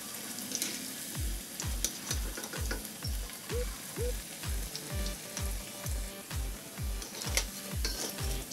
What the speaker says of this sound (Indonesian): Selanjutnya panaskan minyak, lalu goreng menggunakan ukuran sendok, goreng sampai berwarna kuning keemasan dan renyah.